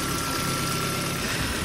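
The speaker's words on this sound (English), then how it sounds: "and also my engine is running" A 2012 Volvo V50 engine idles roughly with a slight misfire, a steady low rumble with faint uneven shudder running continuously and fairly close, no voices over it.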